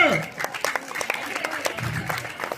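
Clapping from an audience at a college Telugu department event, a burst of scattered, fairly close hand claps mixed with crowd chatter and voices throughout.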